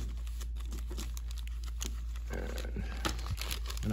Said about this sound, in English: And I'm gonna unwrap the riser.